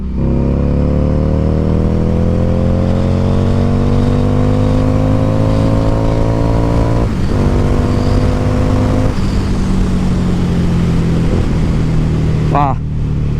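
Harley-Davidson Street 750 motorcycle pulling hard in second gear, a loud close exhaust rising steadily in pitch, briefly dipping at a shift, then climbing again before easing off.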